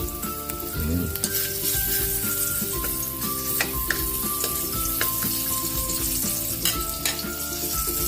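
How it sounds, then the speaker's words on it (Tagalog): Ginger sizzling and frying steadily in hot oil for a Filipino sweet and sour dish, a dense continuous crackle close by with occasional utensil clinks and scrapes, no talking. "Magigisa na tayo para sa ating sweet and sour. Lagyan na natin yung luya para sa ating sweet and sour."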